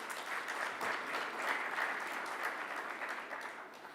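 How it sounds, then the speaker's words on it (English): Audience applause at a manufacturing awards summit, a steady dense wash of many hands clapping that holds for about four seconds and fades slightly at the end. "can we have a huge round of applause for them"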